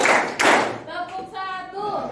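A classroom of students claps together on a teacher's command, making a loud burst of hand claps, and then a voice speaks.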